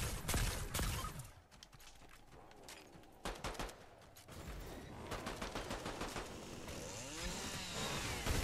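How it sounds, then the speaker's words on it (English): Chainsaw attack during a Fortnite match, a dense, loud roar of buzzing, rattling engine noise mixed with bursts of gunfire and crashing game effects that continue throughout. "Hunt down by a chainsaw."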